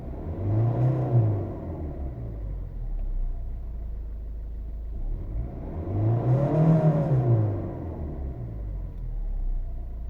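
A 2010 Volvo V50 1.6 diesel engine runs steadily at idle, a low rumbling hum that swells slightly twice as if revs rise and settle.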